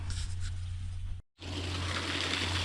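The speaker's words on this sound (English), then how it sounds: "I heard water running." Water runs through a culvert beneath a roadway beside an abandoned canal, a steady broadband rush with a low hum, broken by a brief dropout before the flow resumes.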